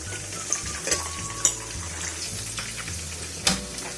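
Creamy fruit chaat ingredients being stirred together in a bowl, with soft wet mixing noise and a few sharp clinks of a spoon against the bowl spread across the clip.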